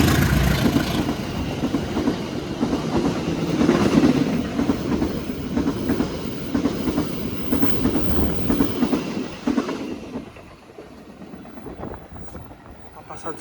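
A passenger train pulls out of Krupuk station on the Jakarta–Jogja route, its wheels rumbling and rattling loudly and steadily before the noise thins out after about ten seconds.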